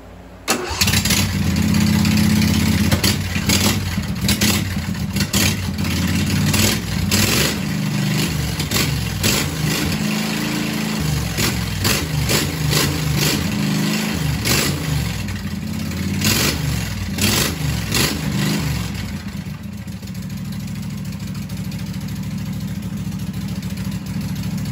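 A Craftsman riding mower converted into a mud mower, with an open exhaust, cold-starts and then revs loud and close, its engine roaring continuously with repeated throttle blips before settling toward a rougher idle.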